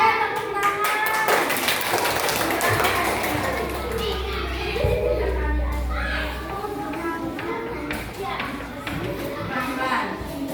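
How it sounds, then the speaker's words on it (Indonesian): Children in a classroom clap together in a dense, uneven burst, mixed with chatter and shuffling nearby. "Oke, tepuk tangan."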